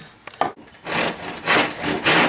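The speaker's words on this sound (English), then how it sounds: "We're just going to use a handsaw." A handsaw rasps through a small piece of click-lock wood flooring in a bedroom, a few short tentative scrapes followed by three or four full, loud back-and-forth strokes, with no talking.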